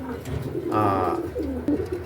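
Soft, low pigeon coos rise and fall close by, a couple of throaty calls under faint background murmur.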